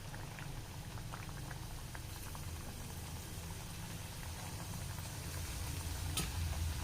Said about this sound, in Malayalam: ഇനി നമുക്കിതിലേക്ക് ഓരോന്നിട്ട് കൊടുത്ത് ഫ്രൈ ചെയ്തെടുക്കാം